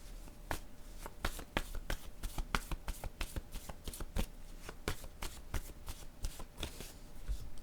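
A deck of cards is shuffled for a card reading, a rapid, steady riffling that runs without pause, close and fairly loud, with no talking.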